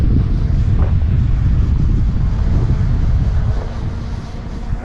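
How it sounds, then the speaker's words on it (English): Strong wind buffets the microphone in a deep, loud, continuous rumble during a Holy Stone HS600D drone flight, easing slightly toward the end. "Man, that wind is really picking up."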